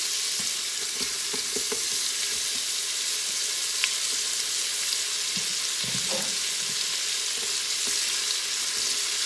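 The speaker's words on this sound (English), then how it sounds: "I'm going to go ahead and put my onion in. Get those sauteing." Onions sautéing in an Instant Pot give a steady, close hiss of sizzling broadband noise with a few soft stirring scrapes and clicks scattered throughout, and no voices.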